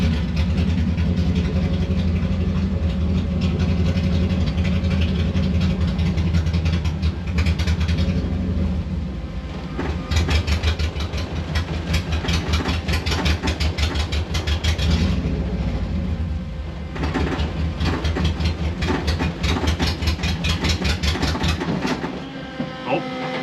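A VW bus fitted with a Subaru engine runs and is driven gently, its engine droning and rattling with rhythmic pulsing, easing off and picking up again over a steady low rumble.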